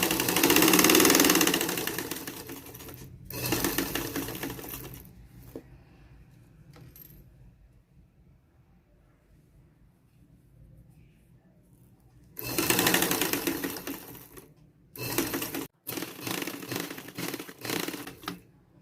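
A sewing machine stitching a straight, fine seam along a dish towel in slow bursts, with a close mechanical whir and clatter that starts and stops between quiet pauses.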